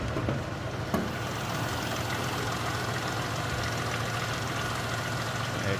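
A 4.6 liter V8 in a 2000 Cadillac Eldorado ETC idles with the hood open, giving a steady low rumble that holds even and continuous throughout, with one brief tap near the start.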